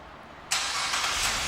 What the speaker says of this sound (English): you can remotely start the car by using your remote